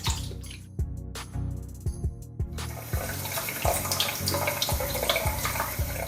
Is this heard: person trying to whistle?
no